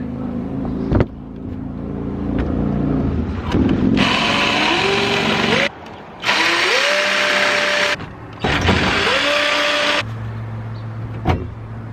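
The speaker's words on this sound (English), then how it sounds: "Definitely the saber saw. It's way faster than the grinder." A saber saw cuts through the metal roof of a step van to fit a MaxxAir roof fan. It runs as a harsh, rasping whine in three long bursts, with the motor pitch rising as each cut starts and short pauses between.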